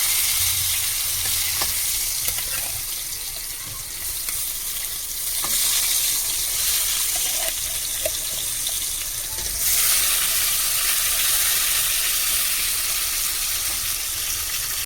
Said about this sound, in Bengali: কেটে রেখেছিলাম কুমড়ো, ভেজে নেব।